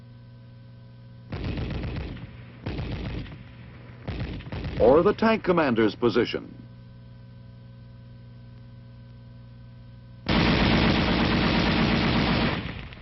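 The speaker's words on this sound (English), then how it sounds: "The M73 can be fired electrically from the gunner's position" Bursts of M73 7.62mm tank machine gun fire come in short loud volleys, each with a sharp onset, between stretches of someone talking. One sustained burst lasts about three seconds at the end.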